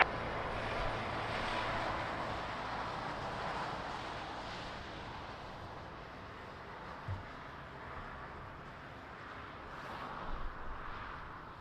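A Swiss airliner on final approach to Lisbon Airport in rain and wind, heard as a steady broad engine roar that holds at a distance for the whole stretch, with no voices over it.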